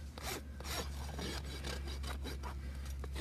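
A rasp files flare off a horse's hoof wall in quick, steady back-and-forth strokes, close and rough, with a low hum beneath.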